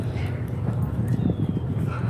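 A horse lopes in an arena, its hooves giving soft, rhythmic thuds on the dirt close by over a couple of seconds, with some low background noise.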